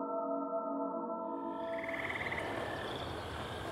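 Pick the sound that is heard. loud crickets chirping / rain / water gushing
loud crickets chirping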